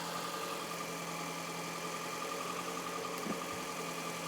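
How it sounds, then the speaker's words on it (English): A Toyota Camry with its check engine light on idles steadily after finally starting, giving a constant close engine drone and hum with a faint knock near the end and no voices. "go ahead, start the engine. All right. And she starts."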